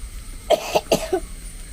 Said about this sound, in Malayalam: ചുമക്കുന്നേ